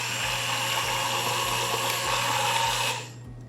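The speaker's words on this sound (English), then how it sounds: "And then blend one more time." A blender whirs steadily at high speed through caramel St-Rémy cream, a loud continuous motor drone with a slight pulsing rhythm that cuts off abruptly near the end.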